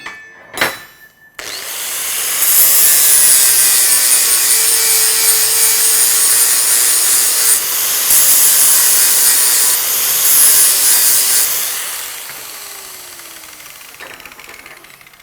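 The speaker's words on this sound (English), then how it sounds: "On the initial pass, usually that's all that's required is a small amount of grinding." Flapper pad on a grinder works the bevel of a Halligan tool, a steady abrasive rasping that runs loud for about ten seconds after a brief knock, then tapers off as the grinder winds down.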